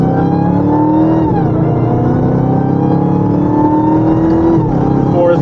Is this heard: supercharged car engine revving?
yes